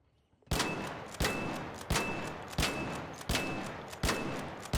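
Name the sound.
gunfire in ARC Raiders video game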